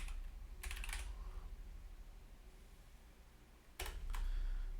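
Two short bursts of quick clicking keystrokes on a computer keyboard while coding, close and fairly quiet, separated by a low steady room hum.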